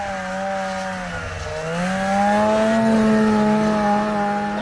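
A snowmobile engine drones loud and close at speed, its pitch dipping then climbing steadily as it accelerates toward a jump, sustained with no talking.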